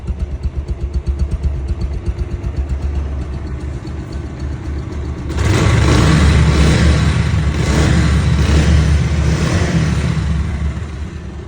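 A second-hand 2021 Bajaj Pulsar motorcycle in showroom condition idles in neutral with a smooth, even, close-up engine beat, then grows noticeably louder and rougher about halfway through before settling back.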